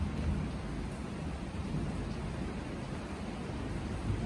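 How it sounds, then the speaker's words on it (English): Steady rain falls during a thunderstorm, a dense even hiss with a low rumbling undertone, fairly faint and without any talk. "It's raining."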